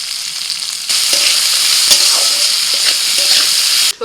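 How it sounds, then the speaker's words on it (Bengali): Carrot, capsicum and beans stir-fry in a hot pan, a loud steady sizzle that jumps up as more food hits the oil, with light scraping stirs throughout and no talking. "সবজিগুলো ভালো করে ভেজে নিয়ে এবার আমি দিয়ে দিচ্ছি মটরশুঁটি, পেঁয়াজ আর টমেটো।"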